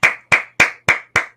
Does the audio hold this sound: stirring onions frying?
no